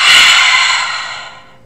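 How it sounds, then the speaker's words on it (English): A forceful dragon fire breath exhale, a single long, loud breathy rush of air pushed out through the mouth that starts strong and slowly fades over under two seconds, with no talking. "we're going to do dragon fire breaths"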